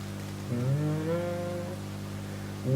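Cows moo in Minecraft, a long drawn-out low call carrying across most of the stretch, with the start of another moo at the end, clear and close with no talk over it.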